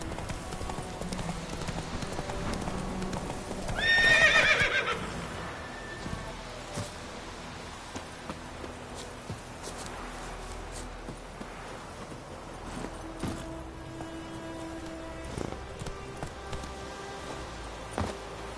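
Roach the horse trots in The Witcher 3 with a steady clip-clop of hooves and lets out a brief, loud whinny early on, the hoofbeats continuing at moderate volume over quiet ambience.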